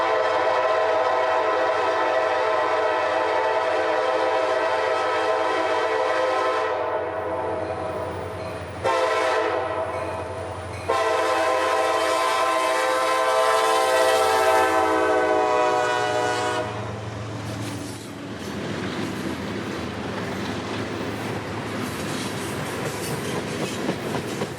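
Freight train M441, led by an EMD locomotive, departs on the S-Line near Waycross, its loud rumbling engine steady throughout. Two horn blasts ring out partway through, and the cars keep rolling past after them.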